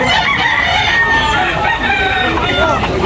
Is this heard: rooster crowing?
yes